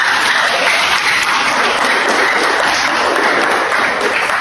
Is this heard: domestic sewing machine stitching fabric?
no